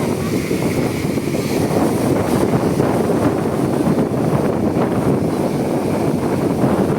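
A strong habagat monsoon wind blows through a storm, a loud, continuous roaring rush that buffets close against the microphone without letting up.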